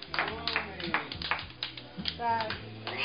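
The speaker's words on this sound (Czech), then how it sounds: "No a tleskat." A small group claps in short, uneven bursts during a family toast, close and fairly quiet, with voices talking over and between the claps.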